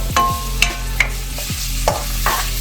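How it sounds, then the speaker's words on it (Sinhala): Chicken sausages frying in oil for Korean kimchi fried rice are stirred in a pan, with a steady sizzle and several sharp utensil scrapes spaced through the moment, close and fairly loud, no talking. "හොඳින් කලවම් කරගන්නවා මේක ටිකක්"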